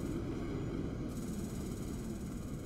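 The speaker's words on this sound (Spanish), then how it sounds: "mira, vino otro jet." A jet aircraft flies in the Roblox game Build a Boat for Treasure, giving a steady, loud engine roar that holds without break for a few seconds, close and alone with no talking over it.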